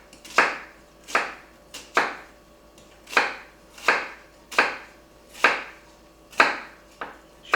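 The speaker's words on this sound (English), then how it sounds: "we'll just go ahead and do this in about a 1/4 inch chop" A knife chops an onion into quarter-inch pieces on a cutting board, with about ten sharp, evenly spaced strikes each trailing briefly, close and clear, and no talking.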